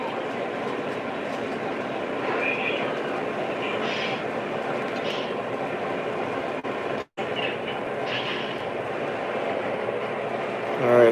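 Lionel or MTH model train running on a home layout, a continuous rolling rumble with faint squeals and clicks, briefly cut out midway, with a person talking faintly in the background.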